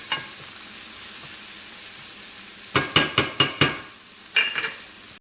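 Prosciutto frying in a pan over medium-high heat, with a steady background sizzle and a quick run of five clattering stirs against the pan, then a brief scrape a moment later.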